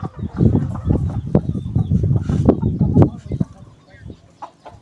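Chickens on a cattle farm peck at feed that a calf has spilled from its trough, with close clucking and scratchy pecking sounds, and a person talking over them for much of the time.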